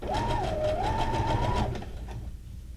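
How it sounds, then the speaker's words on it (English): A sewing machine whirs rapidly up close with a rhythmic mechanical hum, then slows and stops, leaving a faint background drone. "listen to the hum of the sewing machine"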